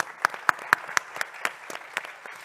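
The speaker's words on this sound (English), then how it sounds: "I'd like to have a round of applause for these panelists" Applause for panelists at a film industry event, a small group clapping in a loose, fairly quick rhythm with distinct individual claps, moderately close.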